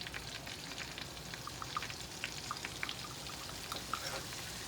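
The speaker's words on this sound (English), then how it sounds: "your butter has melted and it start to simmer a little bit" Butter melts and simmers gently in a pan, giving a soft, continuous sizzle dotted with small pops and crackles, quiet and close, with no talking.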